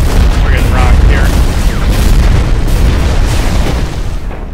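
Rocket explosions in the mech shooter Hawken: a continuous barrage of loud, dense booms and bursts filling the whole stretch, with deep rumbling lows and some faint chatter mixed in.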